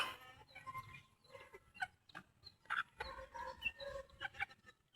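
Chickens and chicks at a backyard farm cluck and peep in short, scattered calls, faint and fairly close, mixed with soft rustling and pecking.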